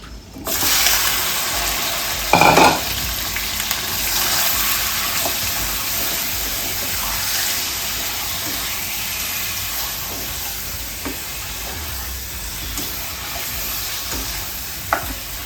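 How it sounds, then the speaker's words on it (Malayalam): Chicken pieces sizzle in hot coconut oil in a home kitchen pan, a steady close hiss of frying with a brief clatter as the meat goes in, then continuous crackling without talk. "ഈ ചൂടായ എണ്ണയിലോട്ട് ഈ ചിക്കൻ ഇട്ട് കൊടുക്കാം."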